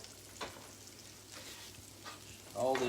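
Ravioli frying in hot grease gives a soft, steady sizzle with occasional crackles, and a louder burst of bubbling near the end as more ravioli goes into the pan.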